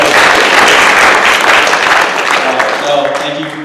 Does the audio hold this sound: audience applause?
yes